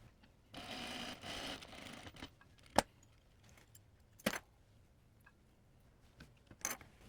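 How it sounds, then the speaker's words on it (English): Home sewing machine stitching a side bust dart on a top, a short run of close stitching lasting under two seconds, then quiet with a few sharp clicks and taps. "We're going to start sewing all of our darts."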